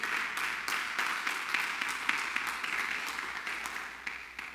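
A church congregation breaks into sustained applause, a dense, even wash of many hands clapping at moderate distance for several seconds, with faint voices underneath.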